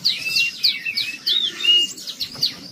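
A caged tiểu mi songbird sings nearby in a quick series of bright chirps, whistles and short trills, repeated in an uneven rhythm with brief gaps between phrases.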